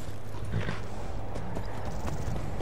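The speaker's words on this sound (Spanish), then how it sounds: "Este caballo viene de bonanza." Horse hooves clip-clop steadily at a walking pace in the Skyrim video game, a continuous run of close, even hoof strikes over a dense ambient bed.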